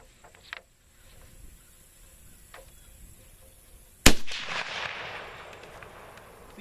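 A single sharp, loud gunshot from a Turkish Mauser Gewehr 98 rifle firing lighter loads at an outdoor range, cracking suddenly after a quiet lead-in and trailing off in a long echoing decay.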